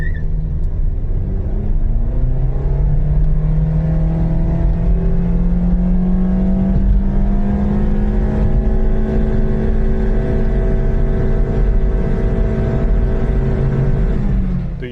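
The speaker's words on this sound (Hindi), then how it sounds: "हम ज़रा लॉन्च करते हैं गाड़ी को और फिर देखते हैं कि इसके 0 to 100 क्या है।" A Honda City 1.5 is launched from standstill and accelerates hard toward 100 km/h, its engine note rising steadily through the gears as a loud, continuous drone with rumble, heard from inside the car.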